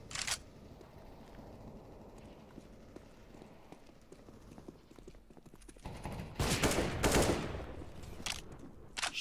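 Bursts of AK rifle fire in the game CS:GO crackle through a busy match soundscape, with loud, dense volleys clustered near the end over steady background game noise.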